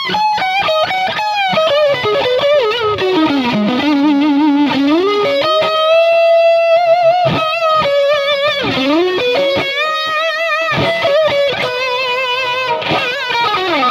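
A Fender Yngwie Malmsteen Stratocaster electric guitar plays through distortion and effects, with fast melodic runs, bends and sustained singing notes that continue loud and close, without any talking.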